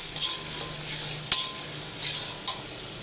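Sliced onion frying in a pan with salt, a dense, close, steady sizzle with a sharp utensil scrape and clink partway through and soft stirring sounds.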